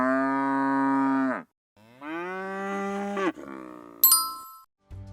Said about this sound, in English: Cows moo when they want food or when they call each other.